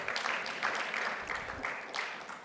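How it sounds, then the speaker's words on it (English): An awards-ceremony audience claps for the Executive Mayor, a short burst of dense applause that holds steady and fades slightly at the end. "A round of applause to the Executive Mayor."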